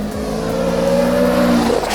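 A Mazda Miata on futuristic tires accelerates hard, its engine note climbing steadily in pitch as it revs, loud and close with a brief shift near the end.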